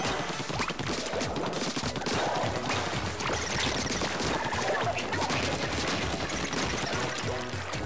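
Rapid shooting in Splatoon 2, a dense continuous barrage of splattering ink-gun fire with crashes and impacts layered over game music, and brief speech.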